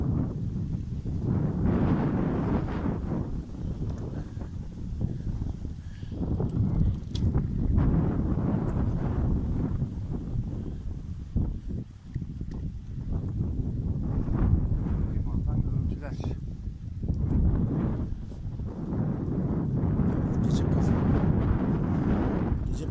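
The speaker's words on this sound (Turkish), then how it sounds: "Biraz soğuk esiyor." Cold wind blows steadily across a microphone on the Şarköy seaside in May, a loud continuous rumbling buffet with gusts rising and falling, and a voice talking intermittently underneath.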